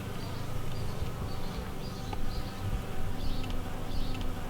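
Bees buzz steadily and close, a dense drone with individual insects drifting nearer and farther, no talking.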